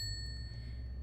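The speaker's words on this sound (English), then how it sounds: "there's a service bell" A service bell from a furniture mod in a video game gives a single clear ding whose bright tone rings on steadily over a low background hum for about a second.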